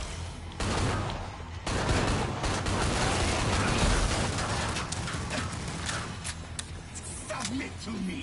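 Rapid bursts of automatic gunfire and explosions from Killing Floor 2 gameplay rattle almost nonstop, loud and dense. A player's voice talks over the shooting.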